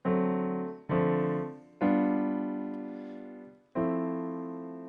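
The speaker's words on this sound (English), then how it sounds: "they're playing all root position chords" Four sustained root-position jazz chords struck one after another, each ringing out and slowly fading before the next, rich and harmonic with no voices.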